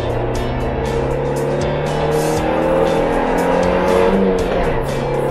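A Suzuki Jimny Sierra engine held steady at about 3000 rpm in second gear, a constant loud drone heard from inside the cabin, with road and wind noise over it.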